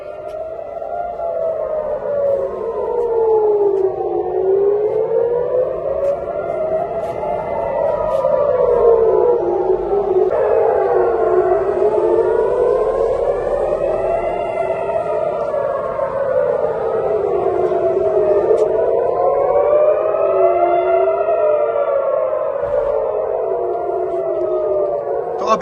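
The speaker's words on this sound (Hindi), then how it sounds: "लगातार सायरन्स बज रही है।" Air raid sirens wail over Tel Aviv during an Iranian missile attack, several rising and falling tones overlapping in slow continuous cycles, loud and steady for the whole stretch.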